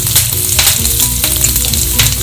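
Mustard seeds and fenugreek tempering in hot sesame oil for a Madurai-style raw banana kuzhambu, a loud, steady sizzle with crackling bursts throughout, close and without talk.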